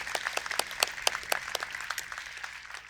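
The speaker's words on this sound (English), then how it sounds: "let's applaud him again. You cannot applaud him enough." An outdoor crowd at a plaza gathering of speakers applauds. The clapping comes in a burst of sharp claps at moderate distance that thins out and fades over about three seconds.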